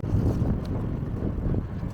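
Wind buffets the microphone beside a canal in the Black Country near the Tipton and Coseley tunnel, a steady low roaring rumble with no voices.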